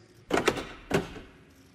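A Mercedes-Benz G-Class door locking: a sharp mechanical clack-clack followed by a heavier solid thunk, crisp and close, with nothing else around it.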